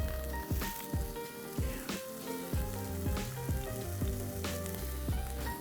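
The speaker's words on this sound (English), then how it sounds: "you can see that the steak's on just now and it's really starting to caramelise" Steak searing in a hot pan, caramelising with a continuous close sizzle and crackle broken by repeated louder spatters and pops, with no talking.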